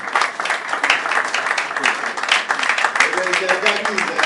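A crowd at a business conference in Ikeja gives a big round of applause, clearly separate claps packed into a lively, steady patter, with a voice rising underneath toward the end.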